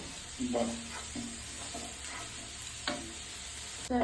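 Onions fry steadily in hot oil toward golden, giving a continuous sizzle with a few scraping stirs of the spoon, heard at close range and fairly evenly.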